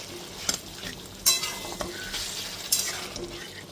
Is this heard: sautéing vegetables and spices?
yes